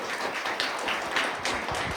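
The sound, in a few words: audience applause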